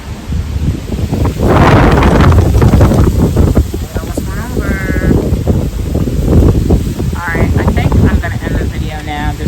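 Strong outdoor wind buffets the microphone in loud, rumbling gusts that swell and fade, while a person talks through it and animal bleats sound faintly nearby.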